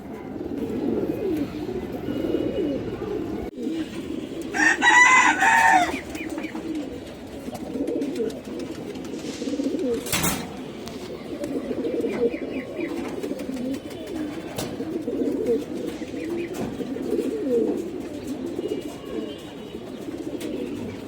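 A pair of black Mooldom pigeons coo in a loft, soft low repeated throaty calls rolling on steadily at close range, with a brief louder flutter-like burst and a sharp click partway through.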